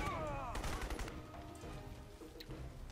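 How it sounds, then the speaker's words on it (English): Shotgun blasts in the first-person shooter Crysis: Episode 2, a burst of loud booming gunfire with dense crackling reports over continuous game ambience and effects. "That shotgun is powerful."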